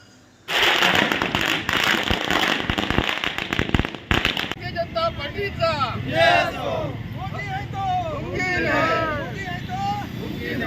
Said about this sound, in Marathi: कार्यालयाबाहेर फटाक्यांची आतषबाजी करत जल्लोष साजरा केला